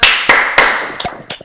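Children in a scout group clapping hands together in unison, three sharp loud claps followed by two more scattered ones, close by and without talk.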